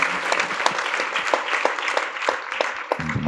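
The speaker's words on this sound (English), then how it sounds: "Let's clap for Jesus." A church congregation claps for Jesus during a sermon, producing a busy round of applause with distinct individual claps standing out in a loose, lively rhythm, fairly close and steady throughout.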